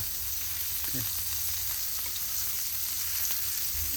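Boneless Boothai fish pieces coated in rava sizzle in a frying pan, a continuous close hiss with a few light clinks and shifting crackles, without talking.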